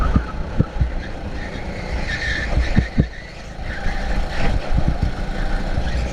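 A go-kart engine revs and drones through a league race, rising and falling with throttle changes and a few thumps from bumps or curbs.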